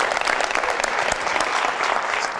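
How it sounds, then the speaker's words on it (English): A town hall audience applauds a young man with dense, steady clapping that fills the whole stretch at an even, fairly loud level. "Let's give this young man a round of applause if we can"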